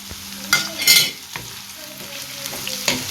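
Beef fat frying in a pan and being stirred, a short burst of sizzling with a few sharp scraping strokes and clinks close by, no voices.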